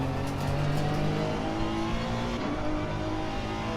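Race car engine in Assetto Corsa Competizione on PS4, a steady close drone with harmonic whine that wavers and shifts pitch midway, heard alone without talk.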